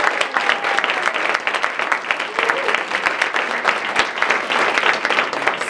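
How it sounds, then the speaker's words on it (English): A round of applause from the audience at a 2024 Martin Luther King celebration, loud, sustained clapping from a crowd with distinct sharp claps and a little murmuring beneath. "I just want to give you all another round of applause"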